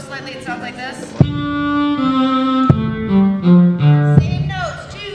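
String ensemble at a workshop plays a descending rhythmic figure starting on a high D, stepping down through sustained bowed notes with crisp attacks, full and close, after a brief busy lead-in.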